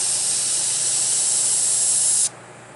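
A Timbertech airbrush sprays in a steady, loud, unbroken hiss for a little over two seconds, then shuts off abruptly, leaving only faint background.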